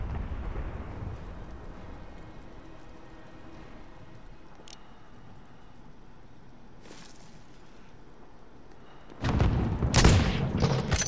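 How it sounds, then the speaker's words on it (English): Gunfire in the video game Call of Duty, a sustained low rumbling barrage of distant shots that swells into a louder, closer burst near the end. "Someone else is shooting that person, too."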